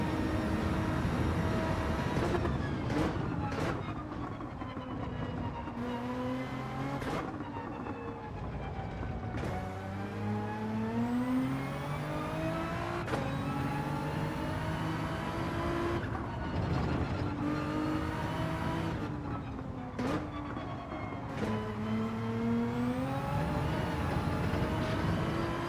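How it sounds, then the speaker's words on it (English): A McLaren race car engine screams at full throttle in Gran Turismo 7, with a steady high rev climbing through repeated gear shifts, loud and continuous with no talk. "You can full throttle the McLaren there easily, no issue."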